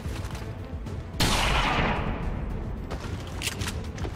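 A soldier's rifle fires in XCOM 2, one sharp loud shot with a long ringing tail, a faint crack following later.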